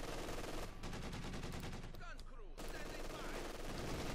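An MG42 machine gun fires long rapid bursts in a Company of Heroes 2 battle, a dense clattering stream with a brief pause, under a loud mix of game effects.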